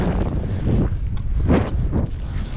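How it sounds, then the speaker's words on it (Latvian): A headwind buffets the microphone of a cyclist riding in rain, in heavy, rumbling gusts, a continuous low roar that swells and dips with no voices. "lietus, vējš pūš tev pretīm"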